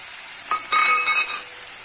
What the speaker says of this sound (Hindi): बस अब हम इसको थोड़ा सा भून लेंगे।